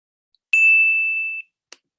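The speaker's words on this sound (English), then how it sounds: "you heard the sound of the doorbell" Doorbell chime from an online doorbell simulation: a single clear electronic ding that rings steadily for about a second before cutting off, followed by a short click, with near silence otherwise.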